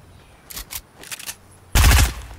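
Fortnite gunfire: a few quiet, distant shots in quick pairs, then a single loud, close, booming blast near the end, with no talking.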